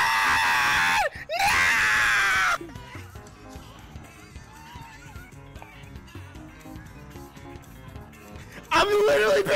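A player in VRChat lets out a loud, prolonged scream that rises and breaks, followed by a chaotic stretch of game noise and shouting, then another shrill scream bursts in at the end.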